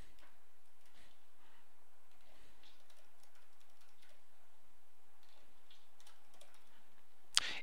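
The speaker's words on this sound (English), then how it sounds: "Then you can type in answer options." Soft, faint keystrokes on a computer keyboard tap out a steady run of light clicks in a quiet room, closing with one slightly louder click.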